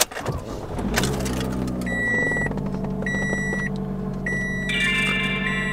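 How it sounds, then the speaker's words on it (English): A car is switched on with a dash cam fitted inside: a low engine hum starts up under a run of electronic tones and beeps, including repeated bright chime sequences, close and fairly loud throughout. "I can just turn my car on."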